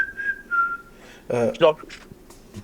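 A woman whistles a short thin tune, then stops as a voice and some rustling follow.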